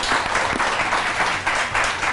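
A studio audience on a morning television show claps loudly and continuously, a full, close wash of applause with slight swells and no voices over it.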